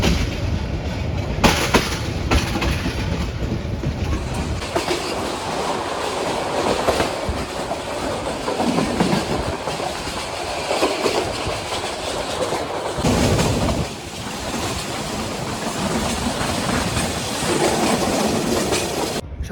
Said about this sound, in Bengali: অনেক লম্বা একটি কার্ভ, এখান থেকে পুরো ট্রেন দেখা যায়